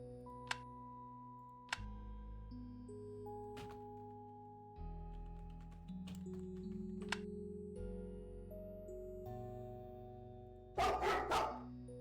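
A dog in the adventure game Heroine's Quest gives a few sharp, separate barks, spaced apart over soft game tones, then a brief burst of rustling sniffing near the end.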